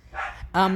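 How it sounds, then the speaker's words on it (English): Dogs barking, two short close yaps in quick succession, one muffled and one sharper. "Sorry about my dogs, they're very barky at this time"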